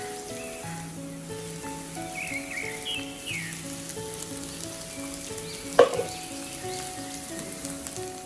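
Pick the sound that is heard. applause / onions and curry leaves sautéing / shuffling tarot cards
onions and curry leaves sautéing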